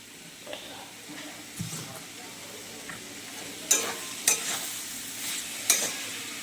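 Banana-flower curry sizzles gently in a pan while ghee is added, with sharp metal spoon scrapes and clinks as it is stirred, fairly close and without voices.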